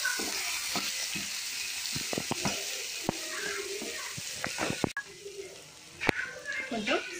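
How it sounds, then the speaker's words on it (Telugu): Black-eyed peas with turmeric are stirred in a frying pan, with soft sizzling and scraping taps of a spoon against the pan, close up under a speaking voice. "పసుపు వేసి బబ్బర్లు వేసేయడము, వేసి కలిపేస్తున్నాను"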